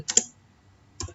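Two quick clusters of computer keyboard keystrokes while entering a command, close and fairly quiet, separated by a brief pause.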